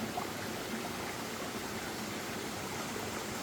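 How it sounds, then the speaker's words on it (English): Water flows steadily in a natural thermal spring pool in the Australian wild, a soft, continuous wash of trickling and lapping at close range with no voices. "in a beautiful natural pool of a thermal water spring."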